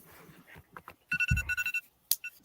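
An electronic phone ringtone trills in a short repeating burst of bright tones, fairly close, with a thump and scattered voices around it.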